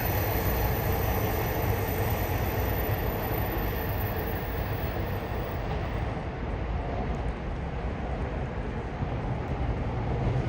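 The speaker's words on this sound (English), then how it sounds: "Fortunately, we can't really see the trains from here, but at least you can hear them." Trains running along nearby tracks in central Tokyo, heard as a steady broadband rumble that stays loud and even throughout, with no distinct passes standing out and no talking.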